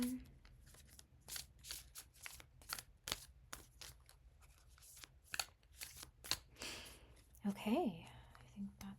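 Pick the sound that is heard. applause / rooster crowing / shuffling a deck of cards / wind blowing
shuffling a deck of cards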